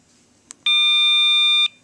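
A Motorola pager sounds its 'triangle' alert: one short chirp, then a steady, bright, loud electronic tone with several overtones that holds for about a second and cuts off cleanly, over a faint low hum.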